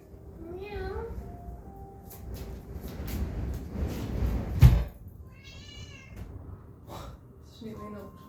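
A cat named Ruby meows several times indoors, with high wavering calls between a person's nearby speech and a brief knock.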